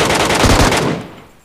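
Rapid automatic fire from an MK14 rifle in a shooting video game, a dense burst of loud close shots running about a second before cutting off and fading.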